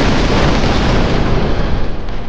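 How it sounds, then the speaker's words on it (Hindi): Huge blast from a suicide car bomb laden with explosives near the Indian embassy, a loud, dense roar of rumbling noise that sustains for a couple of seconds with no speech. "आतंक का धमाका था।"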